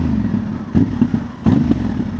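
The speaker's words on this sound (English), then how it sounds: "has a very nice sound at the end when I rev it." A 2025 Honda Transalp fitted with a Dominator MX2 slip-on exhaust revs in two quick bursts over a low, throbbing idle, close and fairly loud.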